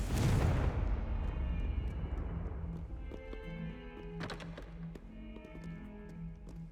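A Confringo blasting spell in the video game Hogwarts Legacy goes off as a loud booming explosion at the start, its roar fading over several seconds beneath a soft repeating game tone and small chiming effects.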